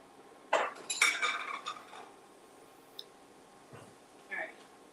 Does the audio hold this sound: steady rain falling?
no